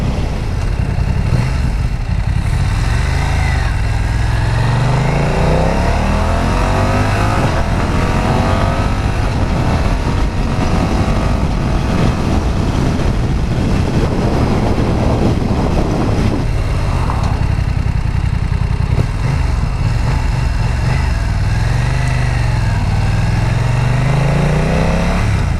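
A motorcycle engine runs continuously while riding through small curves on a just-broken-in bike, loud and close with steady wind rush, the revs rising and falling through the turns.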